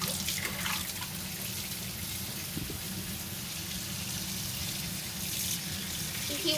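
Tap water runs steadily into a sink as raw chicken is washed clean before being cut up, a continuous hissing splash heard alone without talk.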